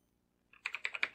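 Fingers type on a computer keyboard into a spreadsheet: after a brief silence, about seven quick, crisp keystrokes follow in a fast run, near and fairly quiet.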